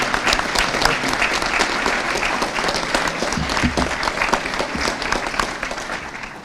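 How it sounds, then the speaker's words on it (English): Banquet audience at a high school football awards dinner applauds steadily for an honoree receiving a plaque, a dense, sustained wash of clapping from many hands throughout, with no talk over it. "everybody give him a big round of applause"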